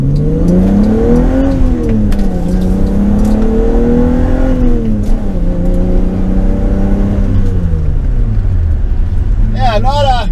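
A 1988 BMW E30 325iX all-wheel-drive sedan accelerates with the engine revving up and down through gears, a loud, close droning hum heard from inside the car.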